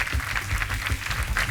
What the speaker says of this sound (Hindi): तालियां बजती रहनी चाहिए देवी सर में